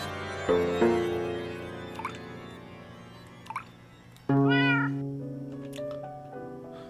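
A cat in a horror puzzle video game meows several times in drawn-out, electronic-sounding cries, with short pauses between them, the last meow louder and held longer.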